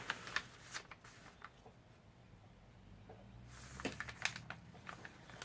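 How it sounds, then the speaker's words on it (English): Sewn paper journal pages are folded and handled in quiet, close rustles and crisp paper crackles, a burst at the start and another near the end with a softer pause between. "once I have my pages sewn together, I can fold them."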